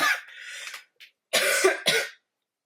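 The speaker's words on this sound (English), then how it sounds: "look, I'm about to cough now" A few raspy coughs come in quick bursts with short pauses, close up and fairly loud, then silence.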